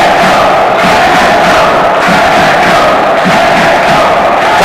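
Supporters of the Leonesse at a women's football match, Toscana against Veneto, chant loudly in unison, a dense roaring crowd with a steady rhythmic pulse.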